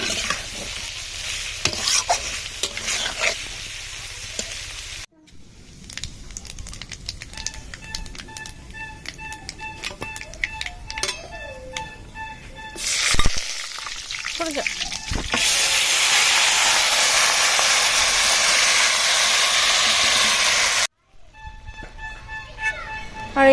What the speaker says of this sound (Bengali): ইলিশ মাছের ডিম ছিল, তাই সেটাকে ভেজে নিলাম